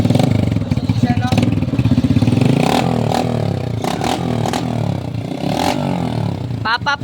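A motorcycle engine revving loudly with throaty exhaust bursts, rising and falling repeatedly up close, with voices talking over it.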